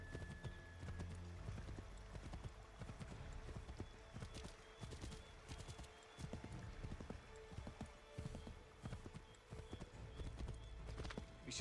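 Horse hooves clop steadily at a gallop while riding in the game Assassin's Creed III, a close, busy rhythm over a constant outdoor background.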